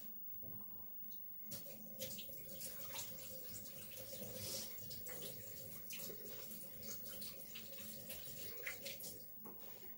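A tap runs into a sink or basin in a home kitchen, a steady close splashing rush of water with small fluctuations that lasts the whole time.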